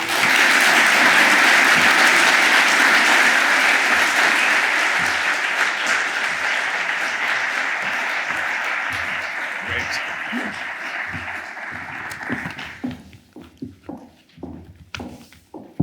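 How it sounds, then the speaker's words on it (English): An audience at a university lecture applauds to welcome Prime Minister Mark Rutte: loud, sustained clapping that slowly thins out, leaving a few scattered claps and footsteps at the end. "please give a warm round of applause and welcome to Prime Minister Rutte"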